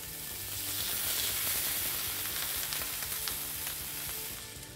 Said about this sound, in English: Now back here I have a screaming hot cast iron skillet. That's what's gonna create that signature steakhouse sear.